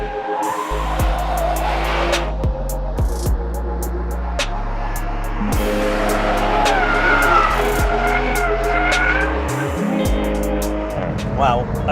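A 2019 seventh-generation BMW 3 Series sedan with adaptive damping is driven hard, its engine droning loudly through gear changes while the tires squeal repeatedly in sharp high bursts.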